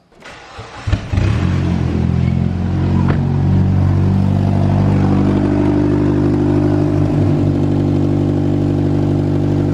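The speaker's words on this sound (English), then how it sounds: "Tacked on for the turbo, and the turbo still spools on idle" A Mitsubishi Lancer's 4G93 SOHC engine with a budget turbo conversion and a tacked-on manifold cranks and fires, then settles into a loud steady idle with a rising turbo whine spooling over it, close up and without talk.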